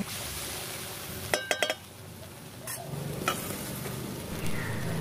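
Spice masala for a taro curry fries in a pan under a steady soft sizzle, broken by a few quick clinks and scrapes of a spoon stirring against the pan, close and moderately quiet.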